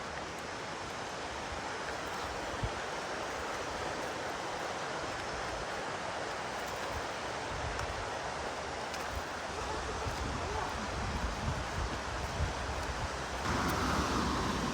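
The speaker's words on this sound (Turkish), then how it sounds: "Evet Kuzular Şelalesi sol tarafta görünmeye başladı" Kuzalan waterfall in Giresun, Turkey, running at low flow, gives a steady broadband rush of falling water that stays even for the whole stretch with no voices over it.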